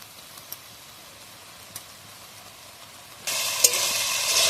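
Singara potato curry filling with chopped coriander is stirred in a pan, a quiet near-silent stretch followed by a sudden loud burst of sizzling frying with scraping stirs.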